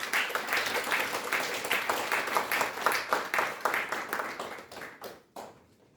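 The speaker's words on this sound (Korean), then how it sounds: "큰 박수로 여러분 환영해 주시면 감사하겠습니다" Audience at a North Korea Freedom Week forum claps in welcome for an invited speaker, a crowd's dense, steady applause filling the room for several seconds before tapering off abruptly near the end.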